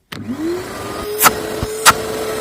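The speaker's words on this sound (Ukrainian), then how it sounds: "Перший запуск нашого пилососа" A Bosch GAS 15 PS vacuum cleaner powers on for its first start, its motor whining up quickly to a steady loud drone, with two sharp clunks or knocks partway through.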